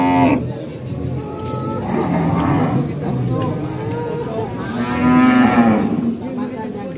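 Cattle at a livestock market in Purwakarta moo repeatedly, with loud, close bellows standing out over a busy crowd and voices talking throughout.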